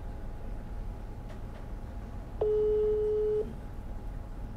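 A single steady telephone call tone sounds for about a second on a phone call, clear and alone over faint background hiss.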